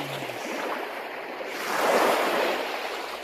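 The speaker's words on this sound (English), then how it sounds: "That's the waves in the ocean, the water in the ocean." Recorded ocean waves rolling onto shore, a continuous soft hiss of surf that swells to a louder wash midway and then eases back, with no voices.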